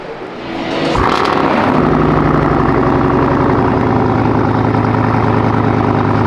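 A car with an aftermarket exhaust idles loudly up close at a car show in Germany, a steady rumbling drone that settles in after a brief rev at the start.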